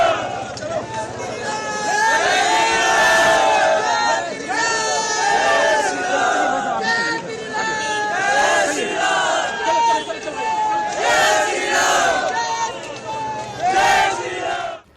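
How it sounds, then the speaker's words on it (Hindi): A large crowd in Jahangirpuri, Delhi, during a Hanuman Jayanti procession and clash, chants Jai Shri Ram slogans. Loud, dense massed shouting and rising cries continue without a break, with overlapping voices and babble throughout. "जो दोबारा भीड़ जमा हुई, जय श्री राम के नारे लगाए"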